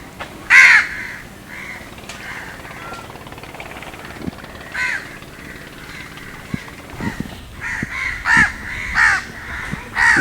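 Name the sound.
crows cawing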